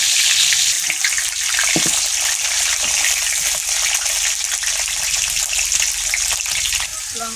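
Potatoes dropped into hot oil in a home kitchen crackle and sizzle steadily with a loud, continuous hiss and a few small pops, no talking over it.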